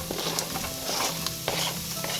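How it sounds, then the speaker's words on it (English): Chopped onion sizzles in a hot pot on a cooktop at medium-high heat, a dense steady crackle broken by a few sharp knocks and scrapes of stirring, close and moderately loud. "We're gonna start by putting our chopped onion in."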